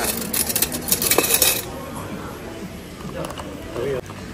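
A spoon clinking against a cup while stirring sugar and milk into a drink, a quick flurry of metallic taps up close that fades out, with a person talking over it.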